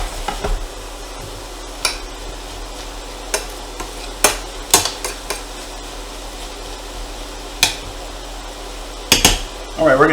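Escargot from a can cooking in a pan with jalapeno and onion, a low steady sizzle broken by sharp clinks and scrapes of stirring, close by with no talking.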